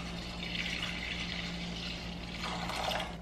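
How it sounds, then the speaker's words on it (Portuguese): Quiet, steady pour of 300 ml of whole milk into a mixture for an ice-cream pudding, a soft continuous liquid hiss over a low background hum, no voices. "Agora eu vou colocar 300 ml de leite integral."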